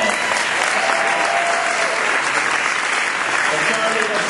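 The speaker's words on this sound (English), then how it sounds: "Give him a round of applause." Dense, sustained applause from a large crowd at a 2009 address by the Secretary of the Interior, steady and loud throughout with no clear speech.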